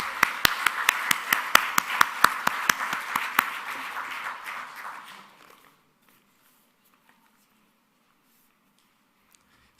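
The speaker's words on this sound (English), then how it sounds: "I'd like to welcome Valentina on the stage with big round of applause" A short burst of clapping from an audience at a career preparation event, fairly close and steady for about five seconds, then fading out into near silence.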